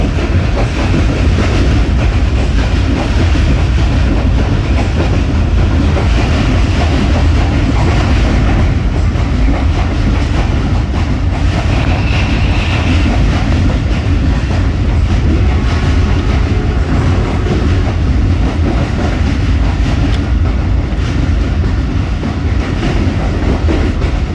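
Jaffar Express passenger train rolling through Burhan station, a steady loud rumble of wheels with rhythmic clickety-clack over the rails throughout, close by and without any voices.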